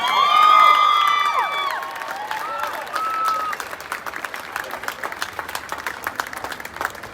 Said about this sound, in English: A massive round of applause for our Olympic and Paralympians